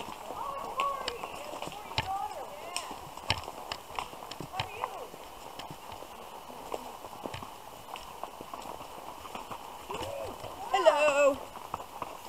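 Horse hooves clip-clopping at a walk on a wooded trail in Greensfelder park, quiet, steady, irregular thuds from several horses nearby, with faint background activity and a brief higher sound near the end.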